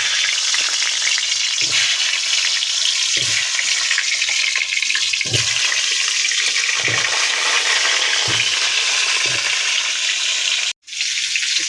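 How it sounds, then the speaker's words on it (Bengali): Potatoes fry in hot oil for a meat curry, sizzling steadily and loudly, with periodic stirring scrapes and a brief break near the end. "এদিকে মাংস, তার জন্য আলুটা ভেজে নিই।"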